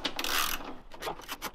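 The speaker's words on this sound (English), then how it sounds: "So we're going to put our socket and we're going to loosen them up." Socket wrench loosening 8mm nuts on a Mercedes-Benz E300d W210 tail light, a short run of quick, close ratcheting clicks, quiet and without talk.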